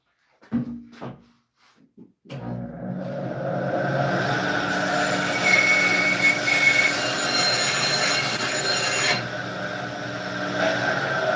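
A bandsaw cuts cedar boards for planters, a steady loud whining drone with a high squeal. It starts after a few knocks and runs about nine seconds, dips briefly, then carries on.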